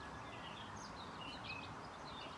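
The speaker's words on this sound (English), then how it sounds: "So hopefully you can hear the birds singing." Birds singing in a garden: faint, scattered chirps and short tweets sit over a quiet outdoor background hiss, distant and soft throughout.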